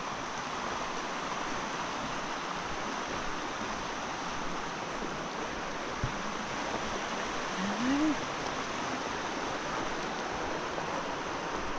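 A stream flows beside a woodland footpath in Fingle Woods, Devon, making a steady, unbroken rush of water that stays even and moderately loud throughout, with no voices.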